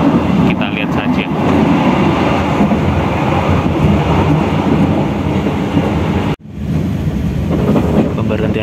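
The KA Banyubiru passenger train rolls into Salem station with a continuous low rumble and rattle of moving carriages, heard from inside, steady throughout with a brief drop near the end.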